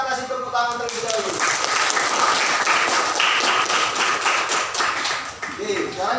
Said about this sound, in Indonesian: Kita kasih tepuk tangan terlebih dahulu.